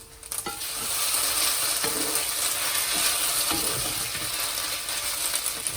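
Kway teow noodles sizzle loudly while being stir-fried in a pan on an electric stove, a steady close hiss with occasional scraping clinks of the utensil against the pan.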